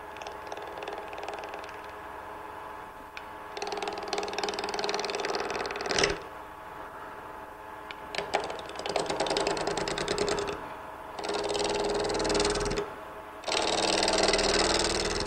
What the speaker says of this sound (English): Now I'm going to start with a gouge and just go real slow and easy.